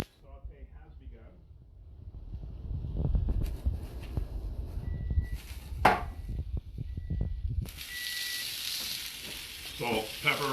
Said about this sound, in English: Saute has begun.